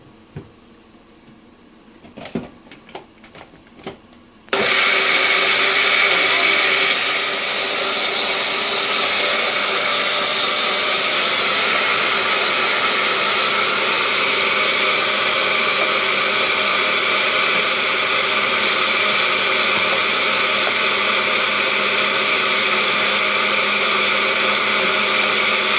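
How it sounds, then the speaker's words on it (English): A kitchen blender whirs loudly and steadily as it purees pepper and onions for Ghana-style jollof, starting with a few brief clicks and handling noises before the motor roars on and runs continuously. "I blend pepper and onions"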